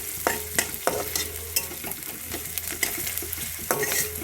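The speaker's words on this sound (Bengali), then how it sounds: "আর একটু ভাজা হবে পেঁয়াজটা।" Onions frying and sizzling in a pan for an egg korma, with a steady hiss broken by repeated sharp clatters of a spatula stirring, close and fairly loud, no voices.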